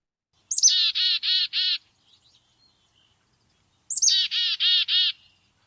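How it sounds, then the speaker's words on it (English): Two separate bursts of bright, whistled black-capped chickadee song, each a quick rising note followed by a run of four buzzy repeated phrases, with silence between. "the black-capped chickadee."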